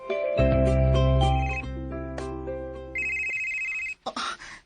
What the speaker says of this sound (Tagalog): Si Bay Jolene, nanawag ka. Tubag ka